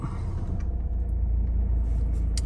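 A Volvo V40 engine runs with a steady low rumble right after starting, close and continuous with no speech over it.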